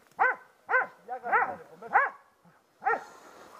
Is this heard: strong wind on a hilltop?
no